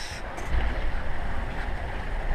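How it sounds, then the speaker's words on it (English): A sailboat under sail in freshening wind, heard as a broad rushing roar of wind and water with low buffeting gusts on the microphone. "having a great day of sailing. The wind's picked up."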